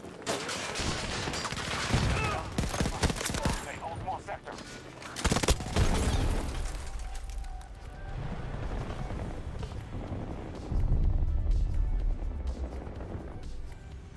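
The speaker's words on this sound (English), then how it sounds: "I'm shooting in burst." Burst fire in a Battlefield 6 match, dense clusters of loud rapid shots and explosions, near and rattling, with continuous battle noise between bursts and a voice talking underneath.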